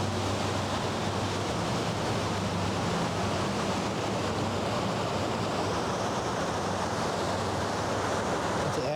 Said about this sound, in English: The Azipod's moving some water.